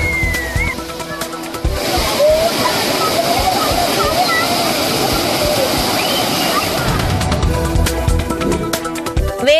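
Floodwater pours hard over the Kovai Courtallam waterfall near Coimbatore, a loud, dense roar and rush that swells after the opening seconds, holds steady, then eases near the end, with a voice heard over parts of it.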